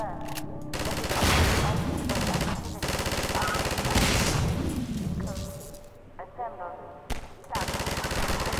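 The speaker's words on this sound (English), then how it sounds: "Now we got the machine gun." Rapid machine gun bursts from Half-Life 2 rattle loudly through the scene, broken by short pauses and joined by other combat noises and game sounds.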